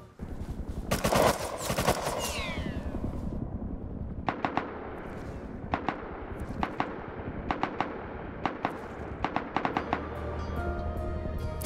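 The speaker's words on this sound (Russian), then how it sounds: "Услышав звуки, как залетают патроны в того типа, который меня жахнул" Gunfire in the survival video game Rust, with rapid bursts of automatic shots and bullets striking a player, followed by spaced single sharp cracks and short volleys, loud and close, with no talking.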